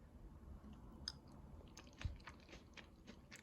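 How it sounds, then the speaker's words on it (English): Close chewing of black bean soup over rice topped with crunchy green onions: soft wet mastication with small crisp crunches and clicks in a quiet room, faint and intimate, no speech. "I love the crunch of the green onions"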